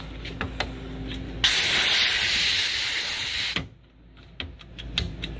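A bright, loud hiss of compressed air bursts from an air tool fed by a truck-mounted compressor on a Duramax tool box, lasting about two seconds, then gives way to quieter clicks and handling noises.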